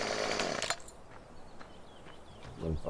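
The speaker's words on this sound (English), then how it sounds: "Can't run with the chainsaw." A chainsaw in the video game Farming Simulator 17 buzzes loudly as it cuts a small tree, then cuts off abruptly, leaving quiet rustling and faint footsteps before another brief buzzing burst.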